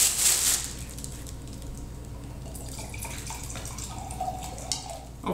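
Red wine poured from a bottle into a glass at a blind tasting, a close, trickling gurgle of liquid that runs steadily for several seconds and rises slightly in pitch as the glass fills, with no speech.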